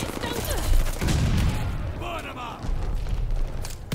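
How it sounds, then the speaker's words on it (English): Shotgun blasts in the video game Call of Duty: Vanguard, heavy booming shots and rumbling gunfire mixed with other in-game noise, while players talk over the action. "I borrowed that shotgun from my dead buddy. I'm just shooting."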